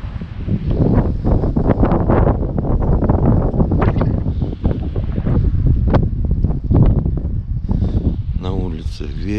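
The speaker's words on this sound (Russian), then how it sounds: "какой ледяной ветер в Крыму" Strong, icy cold wind buffets the microphone with a rough, gusting roar on a Crimean mountain pass near Alushta in winter, while a person talks underneath.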